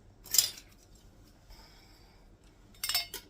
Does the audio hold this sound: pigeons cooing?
no